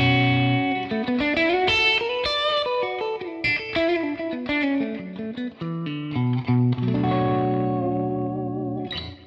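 A mahogany Patrick Eggle Berlin Pro electric guitar on its middle pickup plays a bright, melodic run of notes and chords, loud and alone, shimmering with chorus, mild distortion and a wash of reverb and echo.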